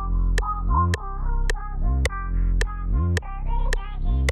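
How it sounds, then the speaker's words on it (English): Sharp metronome clicks tick at a steady beat over a looping Zanku beat synth and bass pattern, with no voices. "So with my metronome, this is what it sounds like."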